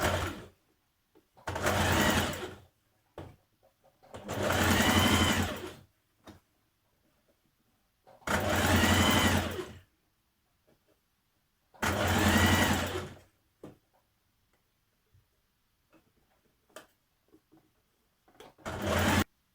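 A sewing machine stitches a small double fold hem on a playsuit made from a duvet cover, in four short, loud, close bursts separated by quiet gaps with faint ticks between.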